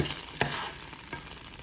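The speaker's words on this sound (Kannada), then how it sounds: "ನೀಟಾಗಿ ತುಪ್ಪದಲ್ಲಿ ನಾನು ಅಕ್ಕಿನ ಬೇಯಿಸ್ಕೊತಾ ಇದ್ದೀನಿ" Rice frying and being stirred in ghee for rice payasa, a steady close sizzle with a few sharp spoon-against-pan scrapes, no voices.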